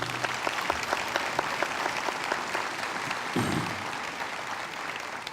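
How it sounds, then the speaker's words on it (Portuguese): An audience claps for a girl named Camila, a sustained, fairly close round of applause that stays even, with a brief low thump partway through. "Vamos dar uma salva de palmas para essa menina."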